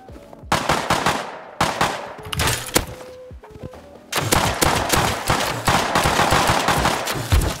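Rapid video game gunfire rattles in dense, overlapping bursts, with a brief lull before a sustained, loud barrage that fills the second half.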